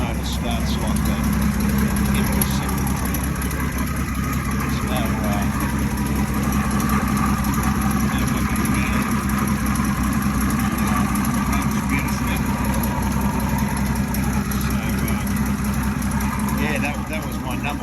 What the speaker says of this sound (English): This motor starts like that.